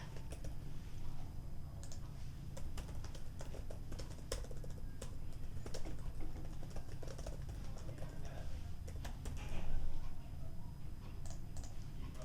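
Fingers type on a computer keyboard while an online form is filled in, a soft continuous patter of key clicks with a few louder taps over a faint background hum.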